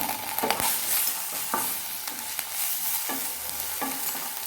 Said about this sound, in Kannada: ಈರುಳ್ಳಿ ಎಲ್ಲ ಸ್ವಲ್ಪ ಕೆಂಪಗೆ ಆಗಲಿ, ಅಲ್ಲಿವರೆಗೆ ಫ್ರೈ ಮಾಡಿಕೊಳ್ಬೇಕು.